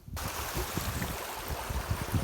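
Steady rushing of canal irrigation water flowing into a field, a continuous gurgling wash with low rumbling, fairly close and even throughout.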